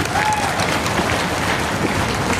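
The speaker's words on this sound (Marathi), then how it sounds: "जोरात टाळ्या वाजवा" An audience at a marketing company gathering claps loudly together, a dense, steady wash of applause that carries on unbroken from start to finish.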